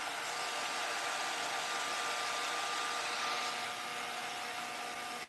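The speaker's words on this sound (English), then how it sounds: "we're just going to take our heat embossing tool" Heat embossing tool blowing hot air for papercraft embossing, a steady close whooshing fan roar that holds even for about five seconds before cutting off.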